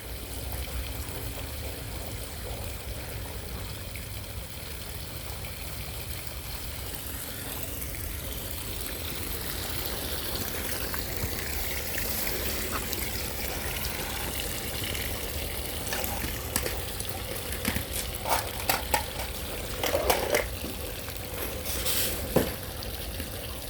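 Water drains from a chambered sump and French drain system out onto a driveway, a steady running trickle that flows on throughout, with some splashing and handling noises near the end.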